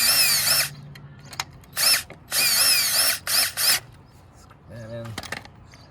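A power drill drives a bolt into place on a Treasure Garden AKZ Plus umbrella, whirring in several short bursts of varying length separated by pauses, with a faint clank near the end.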